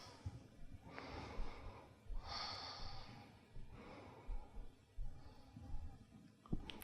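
Slow, deep yoga breaths come in a few long, soft inhale and exhale swells, quiet and close, with short pauses between them during a beginner yoga flow.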